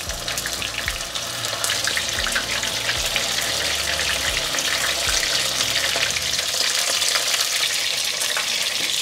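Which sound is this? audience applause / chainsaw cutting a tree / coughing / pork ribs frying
pork ribs frying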